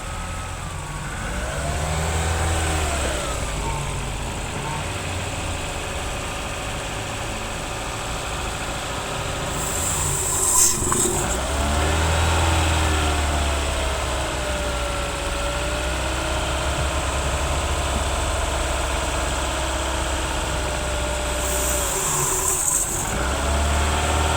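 An engine held at roughly 1500 to 2000 rpm during an intake and air-passage cleaning job, a steady close rumble with a whining tone that rises and falls, and a couple of brief hissing bursts.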